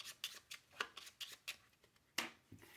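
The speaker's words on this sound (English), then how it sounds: "I'm just going to shuffle things up." Playing cards being shuffled by hand for a tabletop card game, a run of crisp riffling bursts in an irregular rhythm, close and fairly quiet, with one louder snap near the end.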